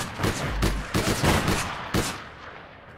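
Grenade blasts and bursts of gunfire in the online shooter APB Reloaded, several sharp loud bangs and crackling volleys in quick succession, then fading to a quieter tail, with no talking.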